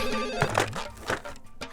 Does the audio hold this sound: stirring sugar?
no